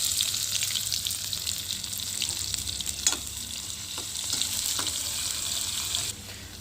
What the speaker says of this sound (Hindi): अब दाल उबल तो गई, इसमें तड़का लगाएंगे।